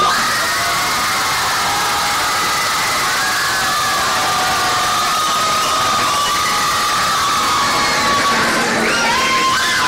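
An audience at a civic knowledge bowl cheers and whoops loudly for the organization's founder, with shouting and screaming voices over continuous applause throughout.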